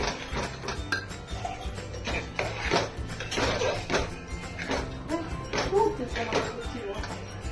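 Sesame seeds and peanuts are stirred together in a pan with repeated rhythmic scraping and clattering knocks, moderately close, under intermittent talk.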